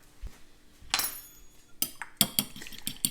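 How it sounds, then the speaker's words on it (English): Eggs being scrambled in a bowl with a utensil, a run of quick clinking and scraping strokes that starts sparse and picks up into a steady rhythm, close and fairly loud with no talking. "at this point we'll get our eggs scrambled and get no shells in there"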